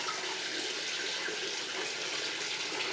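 Water pours steadily into a container with a continuous hissing rush, close and even throughout, with no voices.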